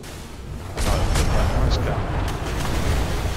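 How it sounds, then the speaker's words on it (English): Cannon fire at sea from a speed schooner in the sailing game Atlas, heard as a series of loud booming blasts with rumbling low thuds over constant ocean and game noise. "I'm sailing into gunfire here"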